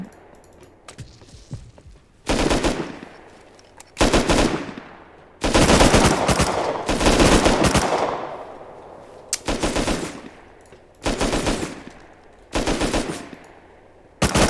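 Thompson submachine gun firing in Rust, loud rapid automatic bursts repeated in several long and short strings with brief pauses between them.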